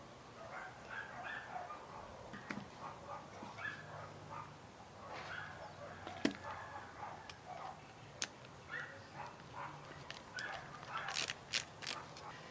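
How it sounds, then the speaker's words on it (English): Screws being driven into a wood scrap to anchor a feather board, heard as faint ratcheting, clicking and whirring tool noises in short repeated bursts with occasional sharper ticks, fairly quiet throughout. "we're just going to put some screws in here for anchors"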